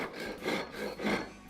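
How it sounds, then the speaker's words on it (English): A hand rasp filing material during auto body shaping, giving three slow rough rubbing strokes, close and fairly quiet, with no talk. "We also have rasps, different types of rasps here that can be used as well."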